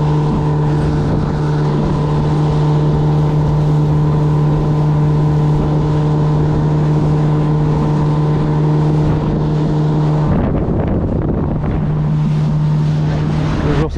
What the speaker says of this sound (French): Je suis obligé de mettre les gaz maintenant.